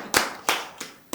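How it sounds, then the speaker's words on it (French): Four sharp, separate hand claps ring out at a slow, slightly uneven pace, close and loud, with no talking. "J'ai envie d'aller l'applaudir encore."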